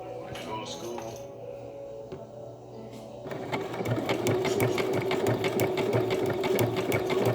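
A sewing machine stitches appliqué around curves, first in short stop-start bursts, then running in a steady fast mechanical chatter, close and fairly loud.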